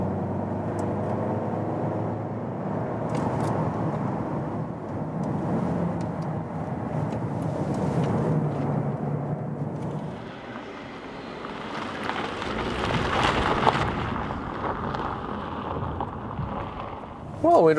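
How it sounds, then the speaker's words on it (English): A Volkswagen Passat Alltrack drives slowly over rough, unpaved ground, off-roading with its adaptive chassis control engaged: continuous low rumbling tyre and suspension noise with scattered knocks and bumps, shifting to a thinner, crunchier texture partway through and ending on a sharp jolt. "Well, we're driving the Alltrack,"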